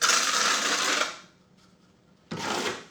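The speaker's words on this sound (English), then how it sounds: "take my notch trowel and just blade over it and wipe off the excess in the bucket" Notch trowel scraping excess ceramic floor tile mortar off into a bucket: a loud, gritty one-second scrape, a pause with faint scuffs, then a second shorter scrape, close up with no talk.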